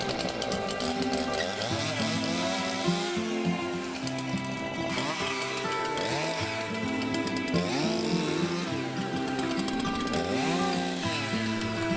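A chainsaw runs continuously for the whole stretch, its engine pitch rising and falling repeatedly as it cuts into a tree, loud and close.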